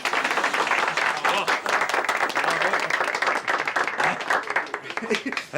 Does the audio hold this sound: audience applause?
yes